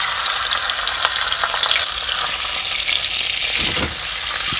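Turmeric-and-salt-rubbed fish head pieces fry in hot oil, giving a steady, dense sizzle with crackling pops and a few stirring scrapes near the end, close and continuous without speech.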